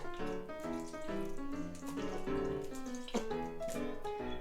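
Water poured from a barbecue sauce bottle into a cooking pan, a continuous gurgling, glugging stream with rising tone as it flows, heard close and fairly steady.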